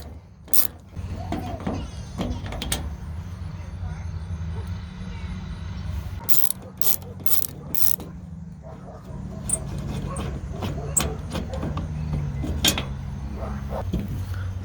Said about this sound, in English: we got a T30 Torx bit, and we'll undo these 2